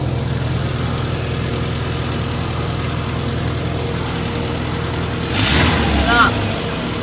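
A 2001 Subaru Outback Sport with its catalytic converter and muffler removed idles loudly and steadily nearby, its low rumble continuous, with a brief rise in engine noise near the end.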